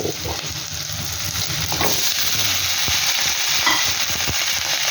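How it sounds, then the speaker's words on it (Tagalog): String beans go into a hot frying pan with browned garlic for adobo, setting off a loud continuous sizzle with stirring scrapes throughout. "Ilagay ko ng itong sitaw."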